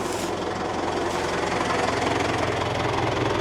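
A roughly fifty-year-old farm tractor idles close by, its old engine knocking in a steady, dense clatter that holds constant throughout with no voices.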